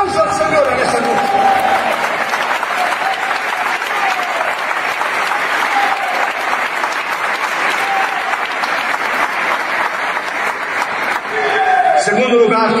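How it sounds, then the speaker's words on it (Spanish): Congregation at an evangelical church service clapping for the Lord, sustained loud applause throughout with cheering voices mixed in. "¡Denle un aplauso al Señor en esta noche!"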